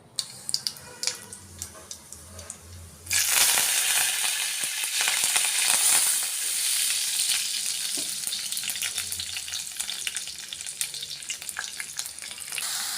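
Garlic, curry leaves and spices are tempered in hot oil for a ridge gourd curry, bursting into a loud, sudden sizzle after quiet kitchen clatter, then crackling steadily and slowly settling down.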